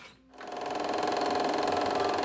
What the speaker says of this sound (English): So I finished the edges quickly with my serger and folded them under and sewed across